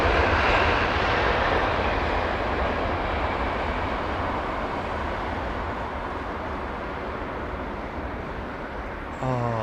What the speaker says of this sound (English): Look at the angle of attack on that following aircraft now.